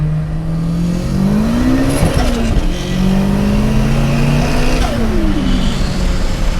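A 600HP Nissan S15 with a VVL SR22 engine pulls hard from inside the cabin, its engine droning loudly and rising and falling through gear changes, with whining transmission and shifter noise over the motor.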